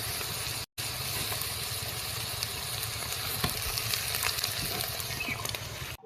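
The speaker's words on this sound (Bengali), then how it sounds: "পাঁচ থেকে সাত মিনিট ভেজে নিলেই যথেষ্ট" Prawn legs and heads fry in oil over medium heat, giving a constant close sizzle with faint crackles, steady throughout apart from a brief dropout near the start.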